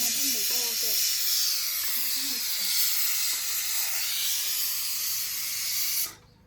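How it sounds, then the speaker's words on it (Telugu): A pressure cooker with mutton inside whistles on a stove, giving a loud, steady high hiss of escaping steam that holds for about six seconds and then cuts off abruptly. Faint voices sound briefly near the start. "విజిల్ వచ్చింది. కుక్కర్ మటన్ లోపల ఉంది."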